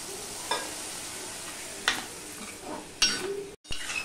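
Masala of potato, onion, cumin powder and Kashmiri chili powder, loosened with a splash of water, sizzles steadily in a frying pan, with a few brief stirring scrapes rising above the constant hiss.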